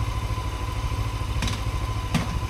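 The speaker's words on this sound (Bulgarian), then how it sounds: "Първото излизане на Вики с мотора." Motorcycle engine idling steadily with a low, pulsing rumble, two brief clattering thumps standing out near the end, ready for a rider's first outing.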